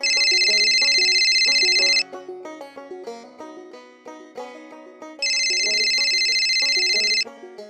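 A phone ringtone sounds for an incoming call, playing a melodic tune: two loud, sustained bright chime bursts frame a softer stretch of melody, clear and close with no talk over it.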